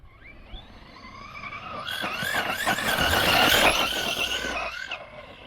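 An Arrma RC car fitted with metal differentials and CVD sliders accelerates hard. A high-pitched motor whine rises quickly, holds loud and close for a few seconds, then begins to fade.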